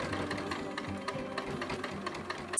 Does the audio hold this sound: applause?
no